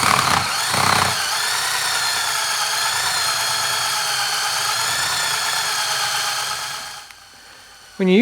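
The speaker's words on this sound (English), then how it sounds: "When you're using that eraser wheel, you want to just use light pressure." An eraser wheel grinds off vent visor adhesive from a car's painted body, making a steady, loud, close whine that runs continuously for several seconds, then drops away near the end before a brief new sound.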